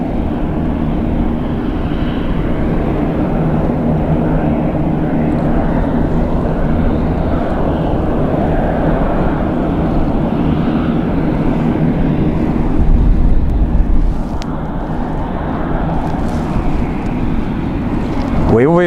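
An F-16 fighter jet flies during the Cobra Warrior exercise at RAF Waddington, giving a loud, steady roar that swells slightly about two-thirds of the way through, heard with wind buffeting the microphone.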